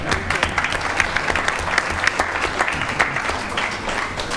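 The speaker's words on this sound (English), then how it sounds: "I think another round of applause for Mr. McAllister and Mr. Cashman." Applause from an audience at a school board of education meeting, a steady dense clatter of many hands clapping, loud and continuous throughout.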